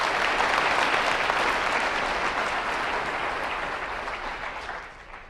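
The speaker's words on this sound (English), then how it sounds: "Yeah, you can clap." An audience at a school district convocation applauding, a full sustained wash of clapping from many people that gradually fades toward the end.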